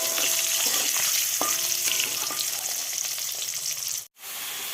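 Eggs frying in hot oil with turmeric, a loud continuous sizzle with occasional clinks and scrapes of a utensil, the sizzle briefly cutting out near the end before resuming.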